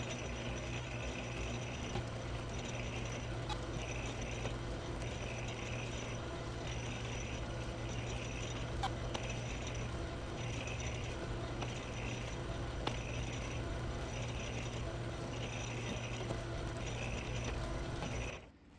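A 1942 South Bend lathe cuts a thread on a steel backplate for a six-jaw chuck, a steady mechanical hum with a rhythmic gear clatter repeating throughout, then stopping abruptly at the end.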